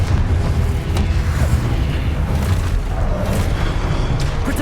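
A Confringo fire spell bursts in a Hogwarts Legacy boss fight, a loud, dense rumbling blast of explosive noise that fills the whole stretch with continuous booming energy.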